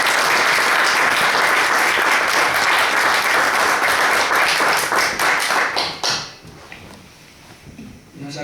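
An audience at a poetry book presentation in a chapel applauds loudly for about six seconds, the clapping then tapering off into quieter room sound with faint voices.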